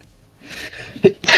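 A single person sneezes close by, a short breathy intake followed by a sharp, loud burst, during a casual conversation about a tank video game.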